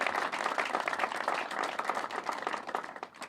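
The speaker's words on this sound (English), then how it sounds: "he deserves a round of applause" Applause at an airport expansion announcement for the executive director of Tweed New Haven Regional Airport, a modest, fairly quiet round of clapping from a small crowd with distinct individual claps.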